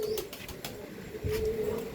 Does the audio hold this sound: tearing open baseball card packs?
no